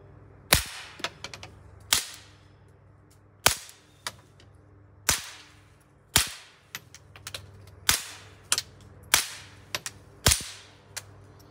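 Shots are fired at close targets on a shooting range using an Olight Osight red dot sight: about nine sharp, loud cracks spaced a second or so apart, each with a brief decay.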